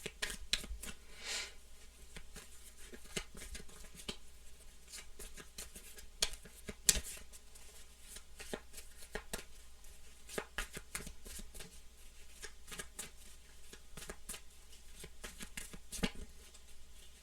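Soft, irregular riffling and tapping of tarot cards being shuffled, quiet and close, continuing for a long stretch with no talking.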